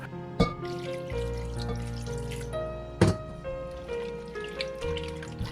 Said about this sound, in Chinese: 切好的里脊肉放盆里以后，倒入半杯清水，清洗一下